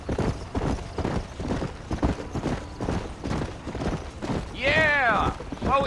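Galloping horse hooves in the Red Dead Redemption video game, a steady rhythmic drum of hoofbeats running throughout, with a horse neigh rising loudly near the end.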